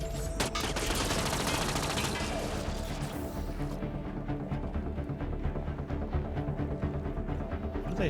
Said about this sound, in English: What are they shooting at? Is there a turret here?